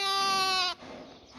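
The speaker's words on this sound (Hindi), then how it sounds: "बकरा" A goat bleats once at a livestock market in Dongi, Azad Kashmir: a loud, close, wavering cry lasting under a second, followed by quiet crowd murmur.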